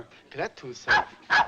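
A dog gives two sharp, close barks in quick succession, about half a second apart, right after a man's brief spoken words in an interior scene.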